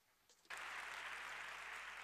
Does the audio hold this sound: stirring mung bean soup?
no